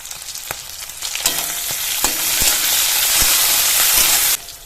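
Shrimp frying in a pan with chopped onion, garlic and green chili, giving a loud, steady sizzle with scattered clicks from stirring, then cutting off sharply near the end.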